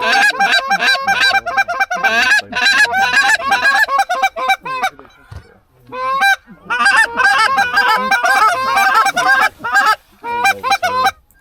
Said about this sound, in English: Hey, geese. That's another pack.